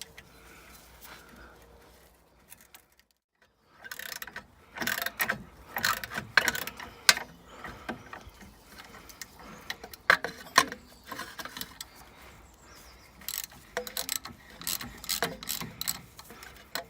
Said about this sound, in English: And again, it's a T40 socket.